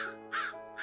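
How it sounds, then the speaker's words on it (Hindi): A group of crows perched in a neem tree caw loudly and nearby, three harsh, rasping calls spaced evenly in a slow rhythm. "नीम के पेड़ पर बैठा कौओं का समूह नीचे देख रहा था।"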